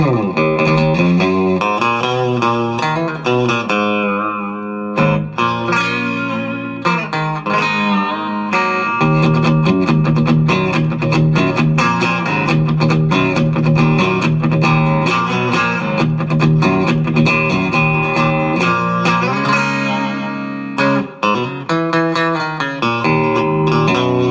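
A 1967 Fender Coronado II electric guitar played through its bridge pickup, giving a thin, bright, distorted tone with effects; continuous strummed chords and riffs ring out loud and alone throughout.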